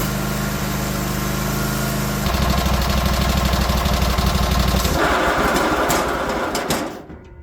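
A Cub Cadet 1050 Hydro lawn tractor engine fires and runs loud and close with a rough, rapid chugging, the pitch and texture shifting partway through before it cuts out and dies at the end.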